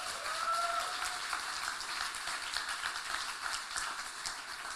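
Audience applause at a Fall Kick-Off event for cohort 5, a moderate steady patter of many hands clapping, heard from a slight distance and sustained throughout.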